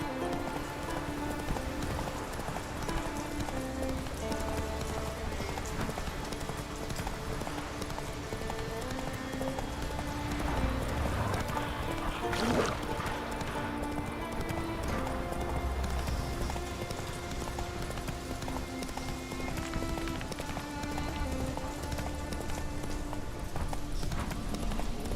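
Roach, Geralt's horse in The Witcher 3, gallops with a rapid, steady clip-clop of hooves lasting throughout, close and even, with a faint rain-like hiss in the background.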